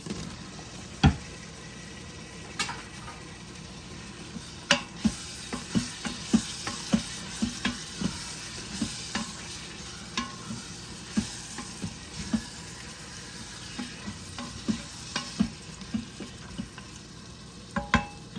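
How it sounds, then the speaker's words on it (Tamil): Chopped tomatoes sauté in an Instant Pot for shrimp biryani, a soft steady sizzle punctuated by frequent clinking scrapes of a spoon against the pot, close and fairly quiet with no talk. "தக்காளி வதங்கட்டும்"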